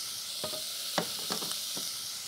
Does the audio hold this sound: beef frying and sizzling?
yes